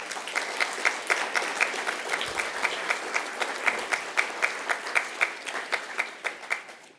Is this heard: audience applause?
yes